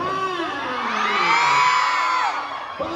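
A crowd at a live mall show in SM Seaside Cebu, featuring Kim Chiu and Paulo Avelino, whoops and cheers loudly. Many high, overlapping shouts and screams swell together and hold steady, then tail off near the end.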